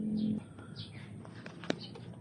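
Birds coo nearby, opening with a short, low coo followed by scattered thin chirps and soft calls in a quiet outdoor spot near a hen.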